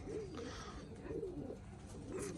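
Newly arrived domestic pigeons coo in repeated soft, low rolling calls close by, layered over a steady background hum with no talking.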